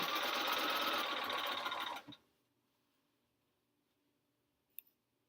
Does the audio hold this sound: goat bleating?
no